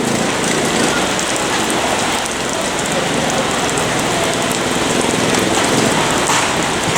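Heavy rain pours steadily over an outdoor market, a dense, loud, unbroken hiss of drops hitting surfaces with no pauses.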